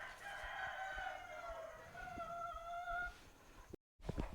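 Roosters crowing at a chicken farm's young-cockerel area, several overlapping drawn-out calls near and far, with faint clucking and rustling between them.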